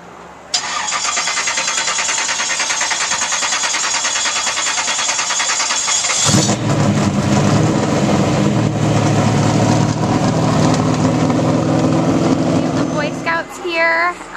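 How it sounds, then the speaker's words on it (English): An Aflac race car engine fires up at an outdoor summer event, starting with a loud, steady high whine before it catches and roars into a rough, full idle with revving. It stays loud and close throughout. "Right now they're going to fire up the Aflac race car"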